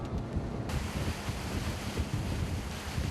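Strong wind at sea on a cold December dawn, roaring steadily with heavy buffeting against the microphone and a broadband rush throughout, no voices.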